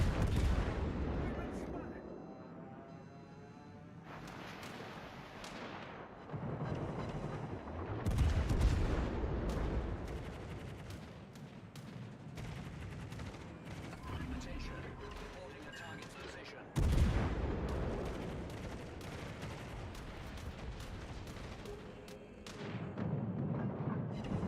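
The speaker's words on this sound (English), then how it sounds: "My AA is constantly going off." Anti-aircraft guns on a battleship in a naval video game fire almost continuously, with repeated booming blasts and rumbling gunfire under a player's talk.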